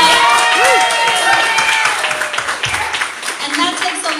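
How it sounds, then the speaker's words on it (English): Audience applause at an open mic night for a first-time performer, steady broadband clapping from a small crowd that swells early and then thins, with a host's voice talking over it. "Let's give another round of applause for Patrick"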